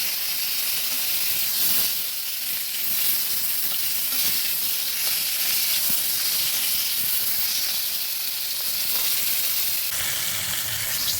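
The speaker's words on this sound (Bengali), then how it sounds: "মাথাটা ভেজে নেব" Continuous hissing sizzle of a hilsa fish head frying in hot oil, steady and moderately loud, with no talking.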